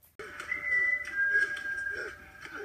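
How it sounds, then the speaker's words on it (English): Eerie human whistling from The Walking Dead season 6 episode 16, a thin sustained melodic tone held and shifting pitch over a low background rumble, alone without voices. "This creepy whistling's gotta stop."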